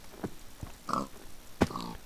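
A Minecraft pig grunts and oinks several times in quick succession, close and fairly loud, over a soft background hiss.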